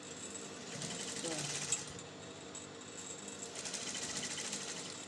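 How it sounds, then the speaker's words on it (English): Sewing machine running steadily while top stitching the facing of a silk cowl neck slip dress, a continuous fine mechanical whir close by with a voice talking over it. "I'm top stitching on the facing"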